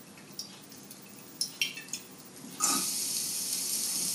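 Oil hitting a very hot pan turned up to almost its highest setting, with a few soft clinks and drips first, then a sudden steady hiss and sizzle that stays loud and continuous to the end.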